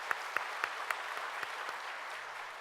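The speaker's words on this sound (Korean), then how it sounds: "하나님께 영광의 박수 들려드리겠습니다." Congregation at a church special dawn prayer service clapping together, a sustained wash of applause with a few sharper claps standing out early, steady and fairly close, no talking.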